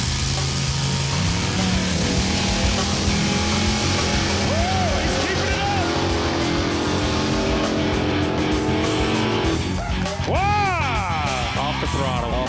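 A drag racing car built for running on its back tires roars down the track at a game show event, a loud continuous engine drone lasting the whole stretch, with voices heard over it.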